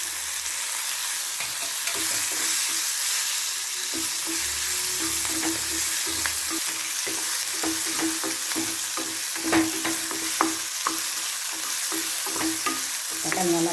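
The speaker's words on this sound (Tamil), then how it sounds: "வதங்கிட்டு இன்னும் ஒரு ஒரு நிமிஷம் வதங்கிச்சுனாக்கா" Curry leaves sautéing in a pan for Tirunelveli-style idi sambar, a steady close sizzle and frying crackle with occasional stirring scrapes and pops throughout, no talking.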